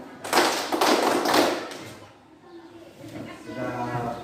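A classroom group applauds for a presenting student team, a burst of dense clapping and tapping that fades after about two seconds, with a quieter voice afterward.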